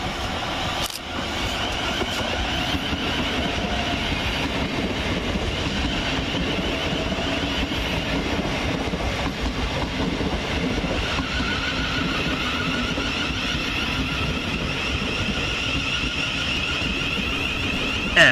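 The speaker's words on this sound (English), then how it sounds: "700-037 arrives, with the 12:59 Govia Thameslink service of Brighton to Bedford via London St Pancras International" A Govia Thameslink Class 700 electric passenger train pulls into a suburban station, a steady close rumble of wheels and traction hum running throughout with no talk.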